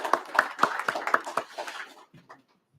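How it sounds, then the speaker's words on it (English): A round of applause breaks out in a state House education committee hearing for visiting social workers, a brief burst of sharp, evenly spaced claps that thins out and fades within about two seconds. "if y'all give them a round of applause for our social workers that showed up today"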